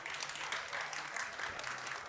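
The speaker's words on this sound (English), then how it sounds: "Can you give a big round of applause to Pamela" An audience applauds after a Grana Padano cheese chef demonstration, a steady wash of clapping that stays faint and distant for the whole stretch, with no voices over it.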